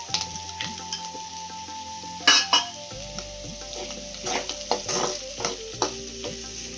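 Okra fry with peanuts, green chilies and chili powder sizzles in a frying pan, with a spatula scraping and clinking against the metal in irregular strokes, near and clear.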